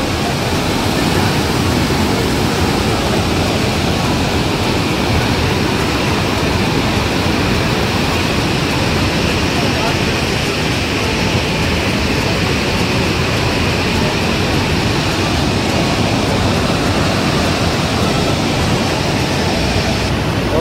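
River water roars steadily through the open gates of Kota Barrage on the Chambal River, a loud, unbroken wash of rushing noise with no pauses.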